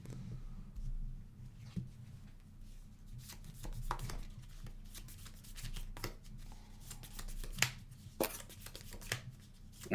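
A deck of Transformers trading cards is shuffled by hand at close range, with soft irregular riffling and tapping clicks over a low room hum.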